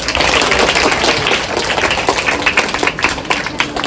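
An audience at a school debate competition applauds the winning teams with dense, sustained hand clapping that stays loud throughout.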